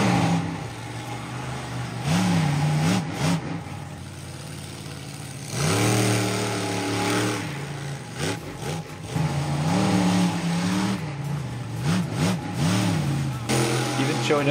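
A truck doing donuts at a supermoto event revs up and down repeatedly in surging bursts, loud and close, over the background noise of a crowd.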